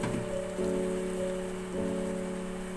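Chicken fingers fry in hot oil, making a steady, close crackling and bubbling hiss that stays even throughout, with a faint background hum.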